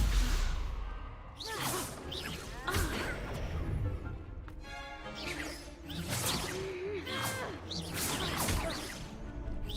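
Swishing spell blasts from Stupefy and other duelling spells in Hogwarts Legacy, a run of sharp whooshes and impacts every second or two over busy game noise, with voices in between.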